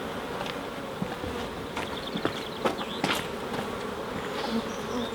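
Honeybees from a six-week-old swarm buzz densely around an open hive, a close, steady humming drone with occasional sharper passes of individual bees and faint handling clicks.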